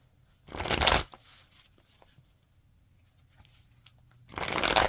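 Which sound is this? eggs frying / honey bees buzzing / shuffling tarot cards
shuffling tarot cards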